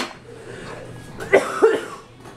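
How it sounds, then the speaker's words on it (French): Two quick coughs break through a low background murmur, close and fairly loud. "Encore, excusez-moi pour la méchante toux."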